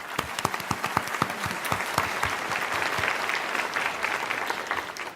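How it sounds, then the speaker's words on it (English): An audience applauds to welcome a speaker at a sustainable lighting event. Sharp individual claps come first, then quickly thicken into a full, continuous round of applause heard alone. "let's give a warm round of applause to welcome Dr. Wu."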